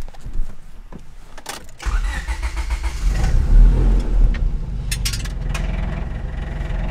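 A turbocharged Honda EK hatchback with a silencer fitted cranks briefly, then catches and settles into a steady, loud, low idle close by.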